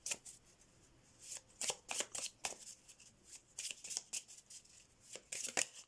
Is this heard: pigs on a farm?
no